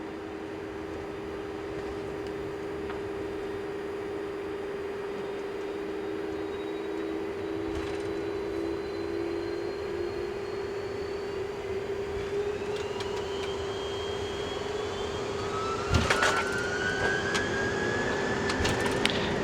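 Steady roar of the jet engines of a Brussels Airlines Airbus A330-300 during a rolling takeoff from runway 25 right at Brussels, heard from the cockpit. The drone is continuous and even, with rising whines and a louder burst near the end.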